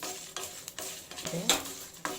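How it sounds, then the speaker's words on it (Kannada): Coriander seeds fry over a medium flame in a pan for a Brahmin-style ridge gourd kootu, giving a soft continuous sizzle broken by several short scraping stirs, close and fairly quiet. "ಈಗ ಸಾಂಬಾರು ಬೀಜ ಹಾಕ್ತಾ ಇದ್ದೀನಿ."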